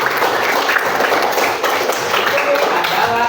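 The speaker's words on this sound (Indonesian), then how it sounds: "tepuk tangannya buat kita" Audience applause in a classroom session, a steady dense wash of clapping filling the whole stretch at fairly loud level, with no talk over it.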